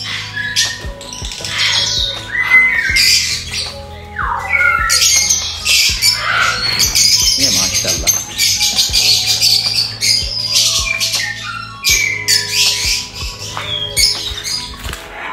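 Lovebirds and cockatiels squawk and chatter nonstop inside a large breeding aviary fitted with nest boxes, a dense, loud chorus of harsh calls and shrill chirps with occasional wing flutters throughout.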